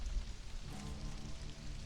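Rain falling in a desert setting in the video game Stranded: Alien Dawn, a steady close patter of drops on the ground, heard alone for a couple of seconds.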